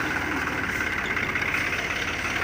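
A tractor engine idles steadily nearby, a low continuous chugging rumble with no talk.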